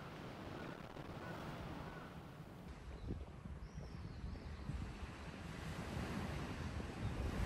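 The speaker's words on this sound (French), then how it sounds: "t'écoutes le bruit des oiseaux, le bruit des vagues" Ocean waves washing onto the shore at Fukuoka, Japan: a continuous broad rush of surf mixed with wind buffeting the microphone, growing slightly louder toward the end.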